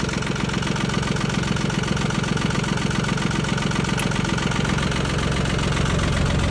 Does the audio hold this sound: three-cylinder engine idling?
yes